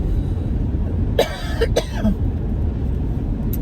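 Two sharp, close coughs in quick succession break a quiet background, followed by a faint throat sound.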